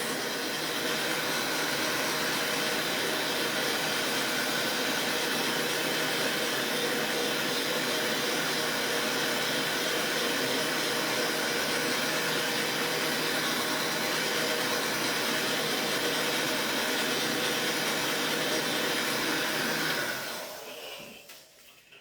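A hair dryer set to low blows steadily on a handmade snowman craft, a loud, even whooshing drone that runs unbroken for about twenty seconds before switching off and fading out.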